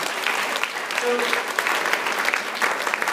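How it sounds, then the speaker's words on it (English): A classroom audience claps in a steady, close round of applause that lasts the whole moment, with a speaker's voice briefly heard over it. "Let's give a round of applause."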